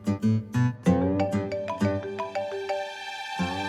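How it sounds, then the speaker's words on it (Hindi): A mobile phone ringtone plays loudly for an incoming call, a bright synthesized melody of stepped tones repeating in quick succession, close and clear with no talking over it. "अफरा से आपका फोन आ रहा है, जल्दी।"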